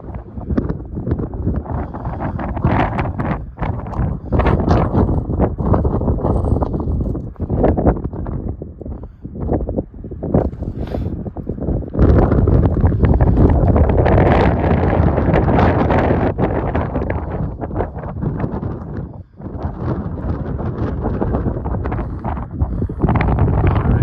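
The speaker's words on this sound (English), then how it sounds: "It's much warmer out of the wind." Strong wind buffeting the microphone on the exposed southern approach of Mt. Abram in Maine, a loud, continuous roar with gusty surges and brief lulls, no talking.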